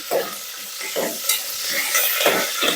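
Green chilies stirred in hot oil for an aloo bath breakfast, crackling sizzle with several sharp stirring scrapes at a steady rhythm, close and clear with no talking.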